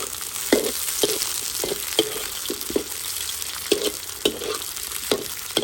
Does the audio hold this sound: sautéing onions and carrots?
yes